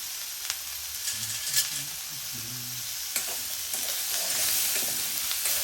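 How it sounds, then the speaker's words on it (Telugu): A steady sizzle of brinjal cooking in a pan, with intermittent scraping and clinks as it is stirred. "ఓకే అండి మగ్గుతూ ఉన్నాయి ఒక్కసారి మిక్స్ చేసుకుందాం"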